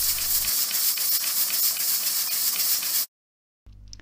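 A pressure cooker full of carrots for halwa lets off steam in a loud, steady hiss that cuts off abruptly, followed by a short silence and a brief return of the rumble.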